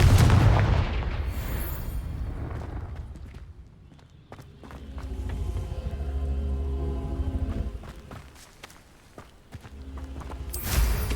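Fire blasts and explosions from the Confringo spell in Hogwarts Legacy, a heavy burst at the start, then rumbling impacts, scattered clatter and a rising swell, with a sharp blast near the end.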